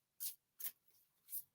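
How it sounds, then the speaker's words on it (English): Tarot cards being shuffled, three short soft riffling bursts with pauses between, very quiet and close, alone without talk. "I'm just shuffling like lots and lots and lots"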